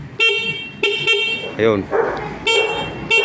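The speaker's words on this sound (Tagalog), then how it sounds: "O busina muna." A Rusi Flex 125i motorcycle horn beeps several times in short, loud honks close by. A dog barks between the beeps, and a voice speaks briefly.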